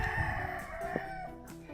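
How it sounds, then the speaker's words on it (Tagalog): A rooster crows once, close by and clearly, during a morning walk at Beacon Hill in Benguet, with faint outdoor background sound and no talk. "This part, may mga manok."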